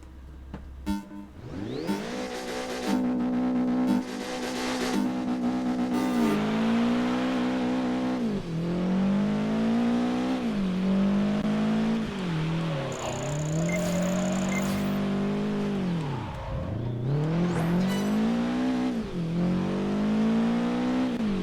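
A car in the Project Gotham Racing 4 video game drifts and revs hard, its engine note repeatedly climbing and dropping through gear changes, with tyre noise and a brief high whine, loud and close with no talk.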